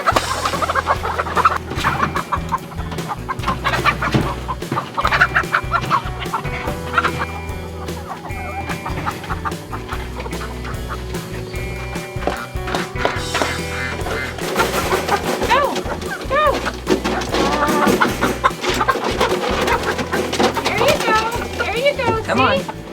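Chickens cluck and squawk continuously close by on desert farmland, with people talking over the busy flock.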